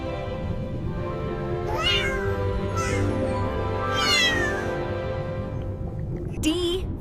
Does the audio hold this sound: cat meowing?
yes